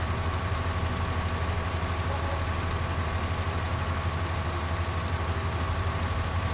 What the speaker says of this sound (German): Ich kann auch den anderen hören hier, den Sound der Traktoren und Geräte.